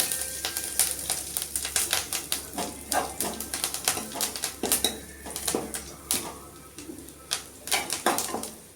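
Curry leaves fry and crackle in a pan over low heat as a spoon stirs them, producing a close run of rapid spits and pops with light metallic clatter throughout and no voices.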